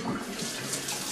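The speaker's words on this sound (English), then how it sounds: "Rinse off your tongs." Tongs are rinsed under a running tap, a brief, close, steady splashing rush of water.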